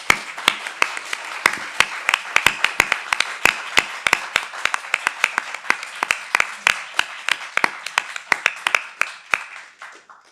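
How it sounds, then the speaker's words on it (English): An audience applauds panelists at the close of a community journalism session, crisp individual claps ringing out in a steady, moderately dense run for about ten seconds, fading at the end with no talking. "let's just give a big round of applause to our panelists here"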